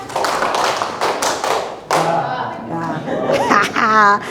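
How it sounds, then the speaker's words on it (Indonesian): A classroom of students does a rhythmic three-beat clapping routine, a quick run of sharp claps near and loud, then giving way to children's voices and chatter. "Tepuk 3"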